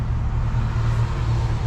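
A Dodge Charger Scat Pack accelerating hard, its engine a loud, steady low drone heard from inside the car, continuous with no pauses.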